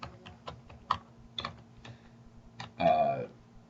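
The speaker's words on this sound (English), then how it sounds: "I can type in the customer's name" Light, scattered keystrokes on a computer keyboard as a customer's name is entered into sales software, with irregular quiet clicks ending in a short faster burst, close and soft, with no speech.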